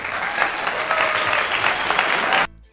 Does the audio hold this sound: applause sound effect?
yes